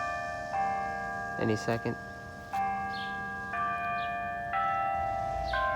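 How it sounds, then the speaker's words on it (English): A noon bell rings out in sustained, stepped chime tones, each held for about a second, at moderate distance, with a short burst of talk partway through. "It's the noon bell."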